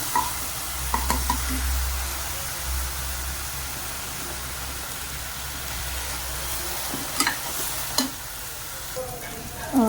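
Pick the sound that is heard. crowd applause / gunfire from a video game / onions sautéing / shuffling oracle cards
onions sautéing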